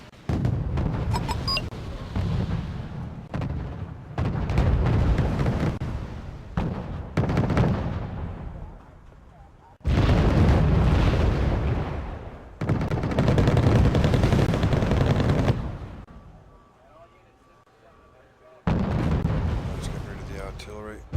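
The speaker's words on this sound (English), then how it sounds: "Artillery." Artillery fire and heavy gunfire in a 3 v 3 tank battle video game, a series of loud booming bursts separated by short lulls, with talk heard alongside.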